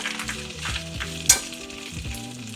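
Spinach wilts and sizzles in a large All-Clad pan, with steady frying crackle, repeated stirring scrapes and one sharp utensil clink, close and without speech.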